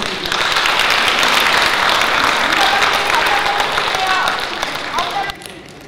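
Loud, dense applause from a hall audience at a Korean flower design association's chairman inauguration ceremony, a continuous roar of clapping that holds steady and then drops off abruptly near the end.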